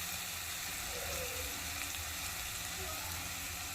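Chicken masala spices are frying in a pan, loosened with a little water. A dense, even hiss and sputter runs steadily throughout, with no voices.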